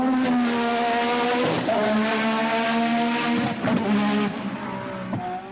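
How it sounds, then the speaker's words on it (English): A Cosworth-engined Lola THL2 Ford Formula One car with full race boost spins its wheels on a wet Donington Park track during a 1986 test, its engine howling and rising in pitch in repeated surges, loud and close. "the vicious power induces wheel spin on the wet surface"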